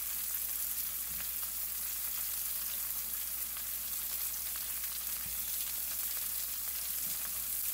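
Onion and peppers sautéing in a hot skillet, a continuous even sizzle and crackle at steady loudness, with a couple of faint soft knocks.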